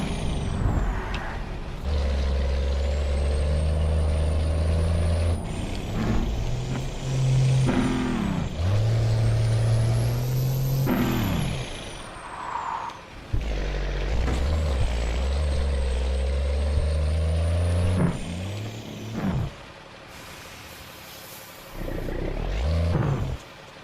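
Semi-truck in American Truck Simulator hauling heavy loads on British Columbia highways, its loud diesel engine droning and shifting through gears as it accelerates and slows, with air brake hisses and a few brief pauses in the engine sound.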